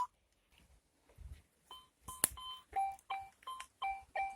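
A metal detector sounds a target signal: faint clicks at first, then a run of short two-pitch beeps that grow steadier and more regular, quiet and with no talk.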